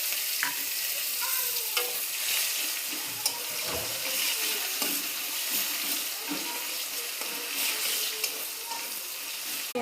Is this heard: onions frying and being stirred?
yes